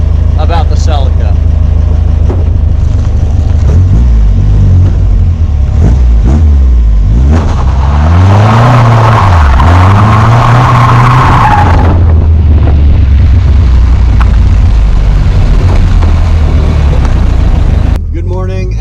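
1982 Toyota Celica GTS engine revs hard as the car drives, with tires skidding and squealing in a loud swelling burst midway, then steady engine drone; someone talks over parts of it.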